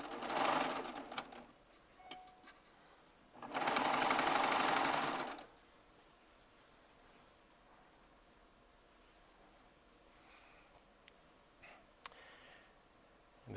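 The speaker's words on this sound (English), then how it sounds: "I'm just going to chain piece all of these 40 strips as I'm going in one big long continuous piece." Serger sewing machine chain piecing forty fabric strips in one continuous run, with two loud bursts of stitching, each lasting about one to two seconds, then quiet room tone with faint clicks.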